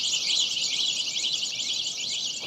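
Dense chorus of small birds chirping in a high, continuous twittering wash, steady and fairly close, with no talk over it.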